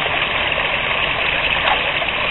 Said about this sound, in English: And this is our little waterfall.